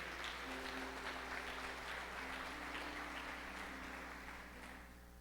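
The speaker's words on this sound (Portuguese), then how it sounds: "Se você crê nisso, aplauda ao Senhor aí no seu lugar." A church congregation applauds together, a steady wash of dense clapping that holds for several seconds and then tapers off, with faint sustained tones underneath.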